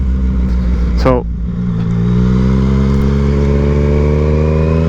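A Yamaha MT-09 motorcycle engine drones loud and close, a quick rev sweeps up and down once, then the engine settles into a steady rising pull, with a brief spoken word over it.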